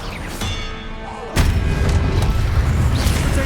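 An Expelliarmus spell cast in Hogwarts Legacy lands with a sudden heavy boom and burst, followed by a loud rumbling whoosh that carries on, after a softer magical swish beforehand.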